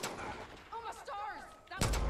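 A single sharp gunshot from Far Cry 5 cracks out near the end, ringing with a low tail, after a stretch of someone talking over faint game ambience.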